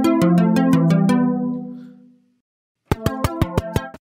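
A Logic Pro Sculpture modeled string with a high disturb setting plays a quick run of bright plucked notes that rings out and fades, then a short pause, then a second fast burst of sharp plucks.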